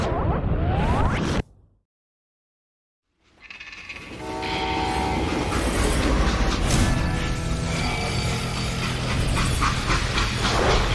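Freight train rolling along in the Western shooter game Call of Juarez: Gunslinger, a loud, steady rumble of rail cars with horn or whistle tones, cut by a brief silence before the sound returns and holds.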